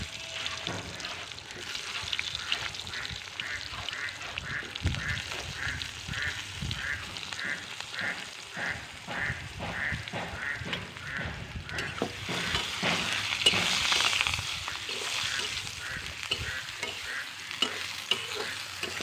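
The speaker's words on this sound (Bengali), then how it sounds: "বেগুনগুলো ভেজে নেব" Eggplant slices, salted and sprinkled with turmeric and sugar, fry in hot oil in a pan for a Bengali fish-oil recipe: a loud continuous sizzle with regular rhythmic stirring strokes that swell briefly near the end.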